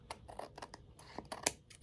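Scissors snipping a stray paper edge off a handmade card, a quick series of small crisp cuts and rustles, faint and close, with no talking.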